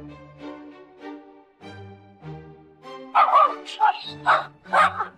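A Labrador barks excitedly at another dog on a walk near a staircase. It lets out several loud, close barks in quick succession in the second half, after a stretch of voiceover narration.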